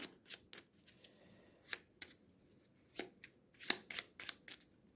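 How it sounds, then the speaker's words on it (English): Boon cards for the Eldritch Horror board game being shuffled by hand: quiet, close riffles and snaps in irregular bursts over soft rustling, with no talking. "let's shuffle the boons"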